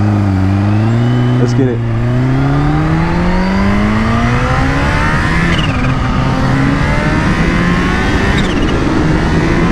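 A Kawasaki H2 motorcycle pulls hard in first gear on narrow night streets, its engine note climbing steadily and loud close to the rider, with a brief gear-change dip and someone speaking briefly over it.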